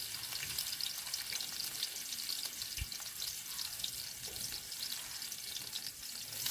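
Onions, green chillies and curry leaves frying in hot oil, a steady soft sizzle throughout with one brief low knock partway, moderately quiet and close, no talking.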